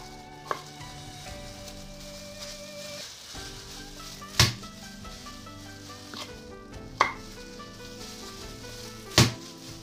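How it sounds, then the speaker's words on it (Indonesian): Ginger is smashed for cooking in a kitchen, a few sharp, loud thuds spaced seconds apart over soft background hum and faint music. "Untuk jahe yang besar kita geprek saja."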